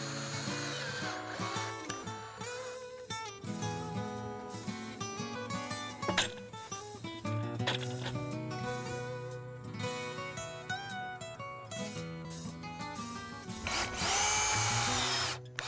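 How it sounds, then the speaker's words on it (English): A power drill drives rust-resistant self-tapping screws into the lattice of a garden arbor, whirring in repeated bursts that rise and bog down as each screw seats, close and clear. "attach them with the same rust-resistant self-tapping screws"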